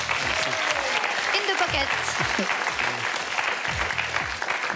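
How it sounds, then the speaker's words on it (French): A studio game-show audience bursts into steady, dense applause that fills the whole moment, with a host's voice speaking over it. "encore les applaudissements car ils sont à vous"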